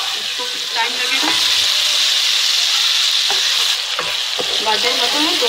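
Carrots and peas frying in a mixed vegetable sabzi, a loud continuous sizzle with intermittent scrapes and knocks of stirring, close and steady throughout.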